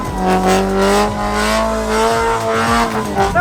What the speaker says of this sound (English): We gotta do the donut test.